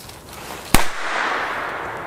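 A Bo Peep firecracker from the 1980s goes off with one sharp, loud bang, followed by a short hissy crackle as it breaks apart.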